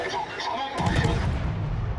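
Anti-aircraft guns fire in rapid, overlapping booms aboard a warship in World of Warships, the barrage suddenly swelling into a dense, loud rumble after a brief quieter start.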